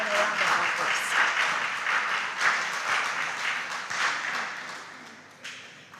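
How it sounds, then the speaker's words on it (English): A round of applause from the audience at a junior high school academic quiz contest greets a visiting school team. The clapping is steady, dense and fairly loud, fading slightly toward the end, with no voices over it. "Please, let's give them a round of applause."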